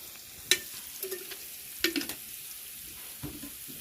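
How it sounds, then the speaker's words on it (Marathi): Cumin and mustard seeds sizzling in hot oil for a tempering of a bitter gourd dish, a quiet sizzle with a few sharp pops and metallic stirring clinks. "आता आपण जिरे मोहरी टाकली"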